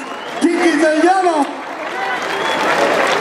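Applause and crowd noise at a 2022 regional music band tournament in Tamazulapan, clapping running under an announcer's amplified voice before carrying on alone.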